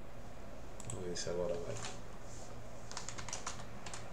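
Typing on a computer keyboard while setting up the keyboard layout on Ubuntu, a scatter of light key clicks in short bursts under someone speaking Portuguese.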